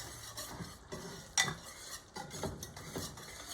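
Butter being whisked into hot caramel sauce in a pan, a steady stirring scrape with soft sizzling and a brief louder clink of the whisk against the pot, close up with no talking.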